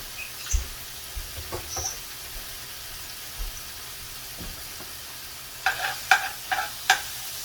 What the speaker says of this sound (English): So I'll put my shrimp in here.